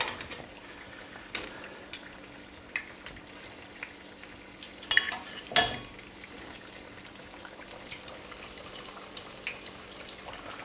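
A chimichanga fries in hot oil, a low, steady sizzle and bubbling throughout with scattered crackles and a couple of louder pops near the middle.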